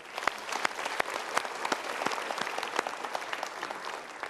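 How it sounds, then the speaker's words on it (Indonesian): An audience at a motivational talk show breaks into applause, a steady patter of many hands with sharp individual claps standing out, fairly faint and distant-sounding, lasting the full stretch. "Kita berikan tepuk tangan dulu."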